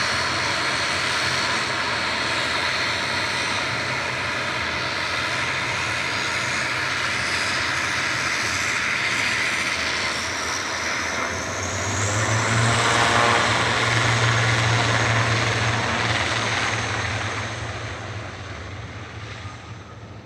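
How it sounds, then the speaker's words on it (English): A Loganair ATR 72-600 turboprop departs Manchester Airport bound for the Isle of Man, its steady engine drone loud and continuous before swelling as it climbs away, then fading toward the end. "heading off to the Isle of Man with flight 694. That's an ATR 72-600."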